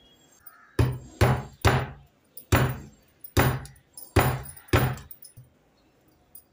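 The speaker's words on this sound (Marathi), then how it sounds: "पहिल्यांदा आपण हे शहाळं फोडून पाणी काढून घेऊया।" A tender coconut is struck open with a chopping tool, seven or eight sharp, loud hacking blows in a fairly even rhythm, followed by a couple of fainter taps and then quiet.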